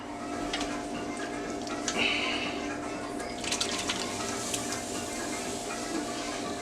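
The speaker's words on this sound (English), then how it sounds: "And you can hear it sizzling." Food dumped into a hot pan sizzles with a steady, hissing crackle, mid-loud and close, over a constant low hum.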